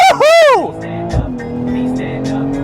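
A BMW 440i Gran Coupe with 48-volt mild-hybrid boost is driven in Sport Plus mode. The engine gives one loud, brief rev that swells and falls, then settles into a lower steady drone with a voice faintly in the background.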